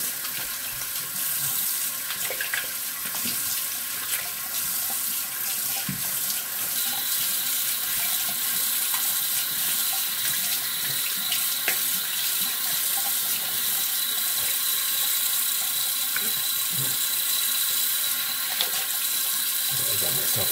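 A razor is rinsed under a running tap, with steady water splashing into a sink for about twenty seconds and small clicks and knocks as it is handled, close and alone with no talk.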